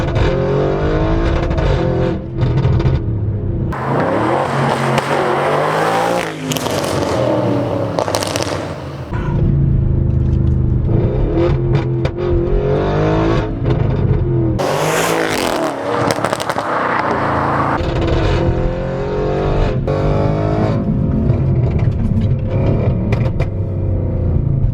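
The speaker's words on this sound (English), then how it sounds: "Listen to first gear pops." An 800 hp Audi RS7 accelerating hard in manual mode, engine roaring loud and close through first gear with sharp exhaust pops and crackles between bursts of revving.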